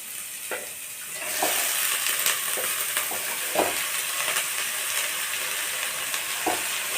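Chopped saranai greens hit hot oil with browned onions in a pan, giving a steady close sizzle broken by scraping stirs of a spatula at irregular intervals, with no talk.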